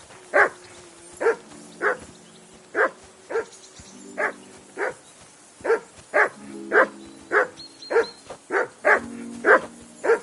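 Steady, insistent barking from a nearby dog, one loud bark after another at a fairly even pace over about ten seconds, with a faint hum underneath and no speech.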